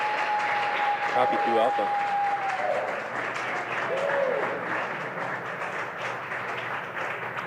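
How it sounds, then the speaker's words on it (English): A crowd at the SpaceX Crew-8 launch cheers and applauds through stage separation, a broad sustained roar of clapping and shouts behind a brief radio voice and a tone. "the cheering behind me means that we have had successful main engine cutoff, stage separation"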